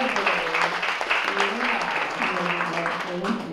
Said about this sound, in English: Oh, an applause, round of applause for the most beautiful people ever.